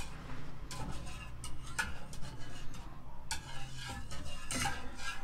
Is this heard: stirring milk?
yes